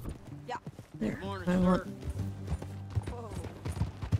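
Horse hooves clip-clop at a walk in Red Dead Redemption 2, a soft irregular patter sitting beneath nearly constant conversation between several characters.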